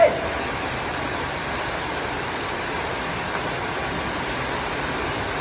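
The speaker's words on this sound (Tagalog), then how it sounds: "mas nilapitan ko ang Maxwell Waterfalls na ito upang aking makuhaan ng mas malinaw at malapitang video ng waterfalls na ito" Maxwell Waterfalls rushes close by in a dense, steady roar of falling water that holds even and unbroken from start to finish.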